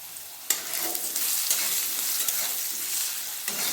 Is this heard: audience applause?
no